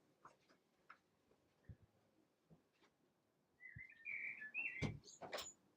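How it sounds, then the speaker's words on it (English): A blackbird sings from a rooftop, a few faint scattered notes and ticks at first, then a brighter run of fluted whistles near the end with a couple of louder sharp calls. "It's the little blackbird having a shout, bless him."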